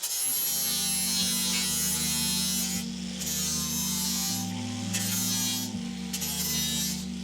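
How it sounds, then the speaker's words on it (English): An angle grinder grinds down a small excess piece of metal in the corner of a shaved engine bay, a steady loud whine running throughout with a brief dip in pitch partway through as the load changes. "for this little excess piece in the corner, we're just gonna grind it down"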